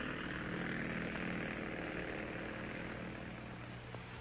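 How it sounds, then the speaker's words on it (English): DC-3 propeller aircraft towing a lightweight steel and plywood lifting body, a steady droning engine and propeller roar that holds level throughout with no voices. "The DC-3 towed the lightweight steel and plywood lifting body and its pilot to altitudes up to"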